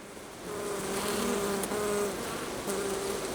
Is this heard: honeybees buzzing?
yes